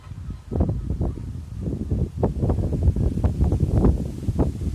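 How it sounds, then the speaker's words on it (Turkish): Gusty wind buffets a nearby microphone with a steady low rumble and irregular surges, with no talking. "Nasıl rüzgar esiyor?"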